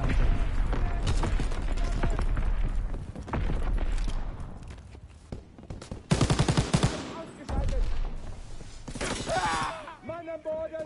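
An MG42 machine gun fires in Call of Duty WW2 on the USS Texas map, with loud sustained bursts of rapid gunfire broken by brief pauses, and voices talking over parts of it.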